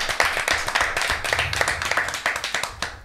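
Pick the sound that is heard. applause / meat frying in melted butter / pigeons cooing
applause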